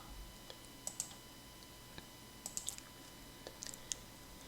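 Computer keyboard keys pressed in a spreadsheet task, a Ctrl+Enter shortcut among them: a handful of soft, quiet clicks spread sparsely over a few seconds against a low room hush, with no talking.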